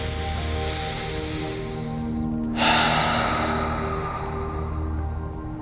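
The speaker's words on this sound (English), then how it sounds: "Let's take one last breath on purpose together," A single deep inhale during a guided meditation, a soft airy breath swelling near the microphone over a sustained low musical drone.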